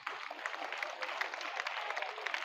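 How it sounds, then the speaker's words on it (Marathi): An audience at a student gathering applauds prize winners, a steady wash of moderately distant clapping that lasts throughout. "यांच्यासाठी जोरदार टाळ्या वाजवा सर्वजण"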